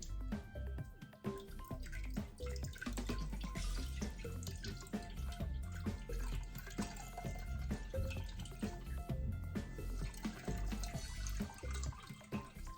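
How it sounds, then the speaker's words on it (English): Hands washed under a running kitchen tap while bottling homebrew IPA, a steady splashing and dripping water stream with irregular patters as hands move through it, close and moderately quiet, no talking. "A quick wash of the hands."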